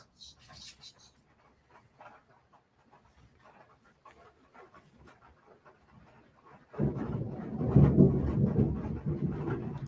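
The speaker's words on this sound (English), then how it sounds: "There's the thunder." Thunder from a strong thunderstorm with hail, a deep rumbling roll that swells suddenly and loudly partway through and carries on to the end after a quieter stretch of faint background noise.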